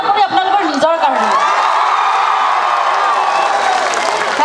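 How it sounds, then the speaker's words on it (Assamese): At a university concert, a crowd claps and cheers loudly, a sustained wash of applause with whoops, while a voice through the sound system carries over the start. "এটা হাত চাপৰি আপোনালোকৰ নিজৰ কাৰণে"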